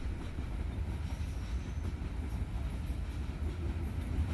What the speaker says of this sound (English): The train consisted of 37 loaded coal hoppers, just 1 hopper shy of their maximum train length.